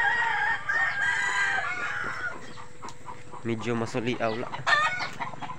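Chickens cluck and squawk in a backyard coop, with a rooster's crow rising among repeated rhythmic clucks at close range, while a person speaks briefly at the start.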